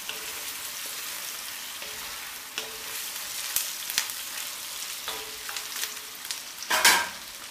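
Pheasant browning in butter in a pan, an even crackling sizzle throughout with occasional sharper pops and a louder spatter of stirring near the end.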